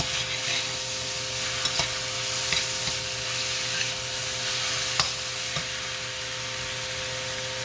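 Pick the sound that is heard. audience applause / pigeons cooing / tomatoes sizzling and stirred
tomatoes sizzling and stirred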